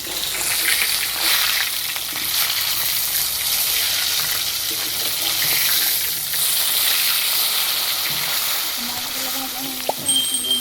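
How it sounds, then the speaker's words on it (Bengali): Continuous hissing sizzle of food frying in a pan, close and steady, with a brief utensil clank near the end. "একটু হয়ে গেছে ভাজা আর একটু উল্টে দেবো মাছগুলো"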